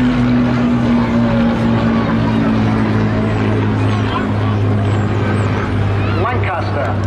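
A Hawker Hurricane, PZ865, drones loudly and steadily overhead at the Southport Airshow 2023, while an announcer talks over the public address.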